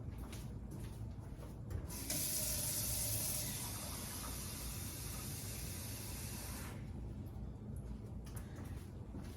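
Water runs from a tap or dispenser into a glass, a steady bright rushing spray lasting several seconds against a quiet indoor background, stopping abruptly, with faint handling sounds before and after.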